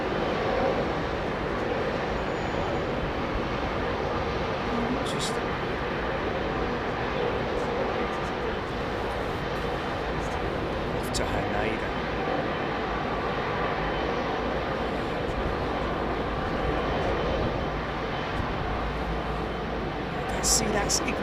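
Jet airliner engines roar at London Heathrow Airport, a steady, heavy drone lasting the whole stretch at an even, fairly loud level, with voices faintly present beneath the noise.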